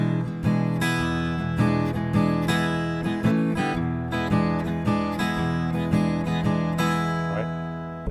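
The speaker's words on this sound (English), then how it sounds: "let me show you what a shuffle groove is here. I'll play it on the guitar" An acoustic guitar plays a relaxed blues shuffle groove, a loping swung bass pattern with strummed chord accents repeating steadily, close and moderately loud, with no voices.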